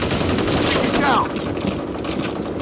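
Gunfire in the shooter F.E.A.R., a continuous crackling fusillade of rapid shots that keeps going throughout, steady and fairly close.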